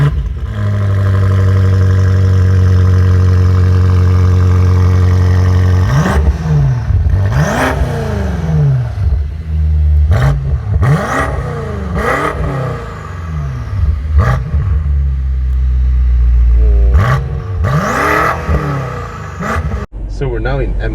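2019 BMW M5 V8 starting with a steady idle, then a series of sharp, loud revs that rise and fall, each blip rising in pitch before dropping back, heard close up with a brief burst of talk among them.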